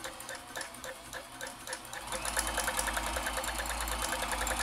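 A vintage Janome Combi DX 502 sewing machine stitches a buttonhole, its needle running in a steady rapid clatter that grows louder and busier partway through, with a low motor hum underneath, close up and alone.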